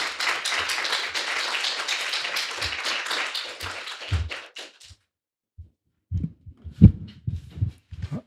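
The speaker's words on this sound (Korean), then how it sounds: "나오실 때 다 일어나시가 큰 박수로 맞이해 주시죠." Applause from a lecture audience welcoming a speaker onto the stage, dense and steady for about four seconds, then thinning to a few scattered claps and thuds.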